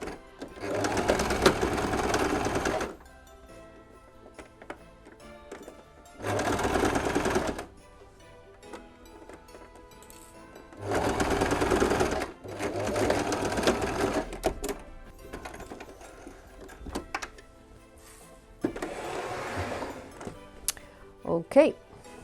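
A sewing machine stitches in loud, close bursts of rapid whirring, each lasting a few seconds and separated by quieter pauses.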